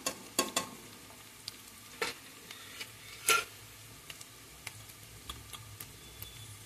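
Onions sizzle softly in a pan with a pinch of turmeric for a cauliflower curry, a low, quiet frying hiss broken by a handful of sharp spoon scrapes and clinks against the pan.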